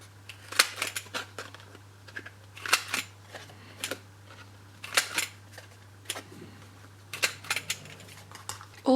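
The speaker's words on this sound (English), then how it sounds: "I'm just going to corner cut." A corner cutter snips yellow sparkly card in a quick series of crisp clicks and snaps, close and fairly soft, over a steady low electrical hum.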